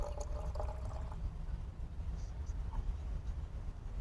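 Water pouring steadily from an outdoor spigot into a jug, a continuous splashing rush with faint drips and trickles, fairly close and moderately loud.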